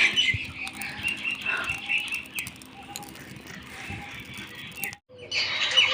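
A dove pecks at paddy rice near a home at dawn, with soft repeated bird calls and chirps among light pattering and rustling, and scattered faint background noise.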